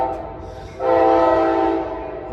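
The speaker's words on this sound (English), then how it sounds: "Amtrak 551, the final Capital Corridor train, arriving at London Square station." An Amtrak Capital Corridor train led by an F59PHI locomotive arrives at Jack London Square station in Oakland, its loud sustained horn blast rising over steady rail rumble and holding for more than a second.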